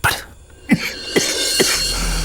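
A few sharp coughs from a man in a Malayalam comedy film scene, three distinct bursts spaced about half a second apart, fairly close and clear over a quiet background.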